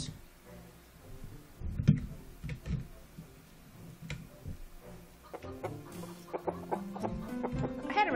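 A chicken clucks in the farming video game Fantasy Farming: Orange Season, giving short, fairly faint clucks among light ticking game sounds and other soft effects.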